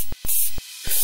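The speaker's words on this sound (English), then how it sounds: "Spray it on." Three quick bursts of disinfectant spray from a pump bottle inside a refrigerator, close and sharp, each a brief hiss with short gaps between.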